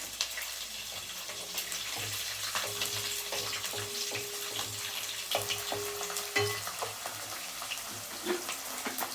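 Garlic frying with chopped shallots and dried red chillies in a pan while pickle is being prepared, a continuous close sizzle with occasional scraping stirs and clinks.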